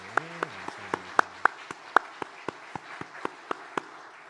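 A church congregation at a Sunday morning service claps for the choir, heard as a sparse, fairly quiet series of separate handclaps at a loose, regular pace, with a faint tonal sound underneath at the start.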